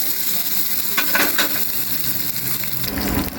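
Fried pakodi being stirred into spiced curd in a bowl, just after a tempering of cumin and curry leaves, makes a steady, close wet hiss and soft scraping stir strokes, with no talk.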